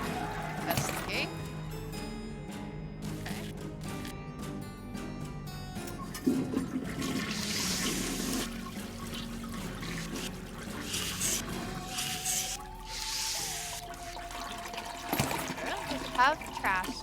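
Toilet flushing in a video game, a long rushing, gurgling flush with pouring and trickling water, heard under game music and a person talking throughout.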